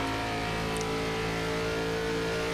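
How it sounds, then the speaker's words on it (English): Race cars in an iRacing NASCAR ARCA Series event at Las Vegas, engines droning steadily at high revs with a dense layered roar of several cars bunched close together, no voices over it. "There's a whole lot of cars catching up as well."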